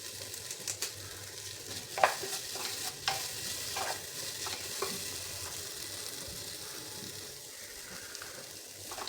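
Ginger garlic paste with tomato sautéing in a pan, a continuous soft sizzle under repeated close spatula scrapes and clicks, busier at first and settling toward the end.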